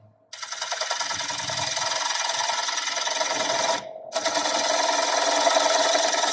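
A dry, roughed-out wooden bowl spins on a wood lathe while a bowl gouge cuts it, making a steady, loud buzzing scrape that breaks off briefly near the end and then resumes.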